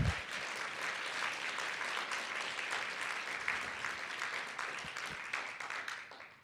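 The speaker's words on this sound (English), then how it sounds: "Let's give them a round of applause." An audience at a city's State of the City event applauds local pizzerias that provided food, a steady, dense wash of many hands clapping that holds for several seconds, then thins and fades out at the end.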